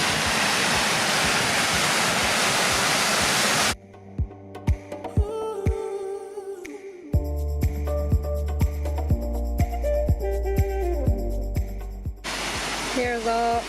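Waterfall along a hiking trail: a loud, steady, close rushing roar of falling water for several seconds, which then cuts off abruptly into music.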